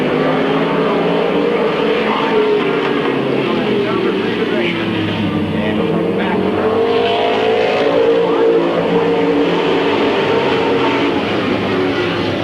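Race cars circling the track at Midvale Speedway, 1995, a continuous loud engine roar with rising and falling pitch as the pack runs, with a commentator talking over it throughout.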